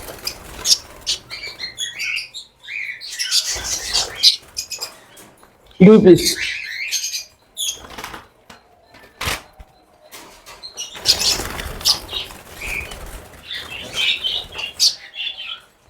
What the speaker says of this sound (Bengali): চমৎকার পাখি ভাই।